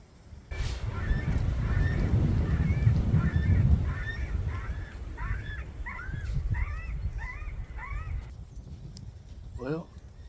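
An electronic predator game call plays loud repeated crow caws outdoors, a rhythmic series of harsh calls rising and falling over several seconds, with someone talking under a low rumble early on and a final rapid call burst.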